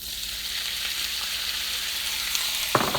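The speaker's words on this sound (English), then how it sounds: "I'm going to take it off the heat because it's actually sizzling." Beef sizzles loudly in hot frying oil, a constant crackling hiss, with a brief clatter of stirring near the end.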